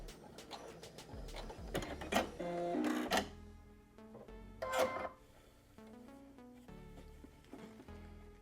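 A home sewing machine stitches a blouse in short, uneven runs, its motor whirring and needle clattering between pauses and handling clicks, fairly close and quiet.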